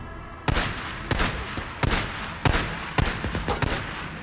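Gunfire in the video game Days Gone: a series of loud, sharp shots about every half second to second, each with a booming tail, close and dominant with no talk over them.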